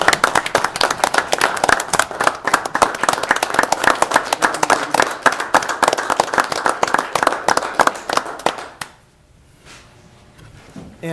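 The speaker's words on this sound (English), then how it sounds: "I wonder if we could show our appreciation to the couple that were able to be here with us with a round of applause" A room of people at a city council meeting claps in a round of applause, dense rapid hand claps that continue steadily for several seconds before stopping abruptly into quiet.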